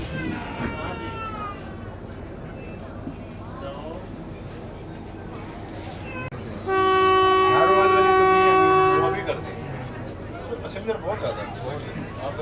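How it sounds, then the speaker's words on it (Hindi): A loud, sustained departure horn from a Jand shuttle train blares for a couple of seconds as a steady harmonic tone, over background rail noise and chatter. "दूसरा डिपार्चर हॉर्न भी हो गया"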